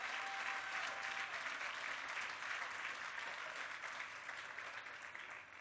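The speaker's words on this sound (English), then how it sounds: "Let's give him a round of applause." Steady, fairly quiet audience applause at a governor's public remarks at the National Urban League headquarters in New York, an even wash of many hands clapping for the whole span with no voices over it.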